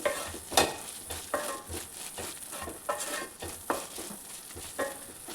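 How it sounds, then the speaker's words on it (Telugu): Ginger garlic paste frying in a pan, a soft close sizzle with a regular rhythm of stirring scrapes and taps roughly every half second, no talking. "అల్లం వెల్లుల్లి పేస్ట్ పచ్చివాసన పోయే వరకు వేయించుకోవాలి"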